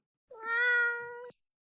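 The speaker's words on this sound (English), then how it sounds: "Here's a cat." A cat gives a single clear, drawn-out meow of about one second, close and distinct against silence.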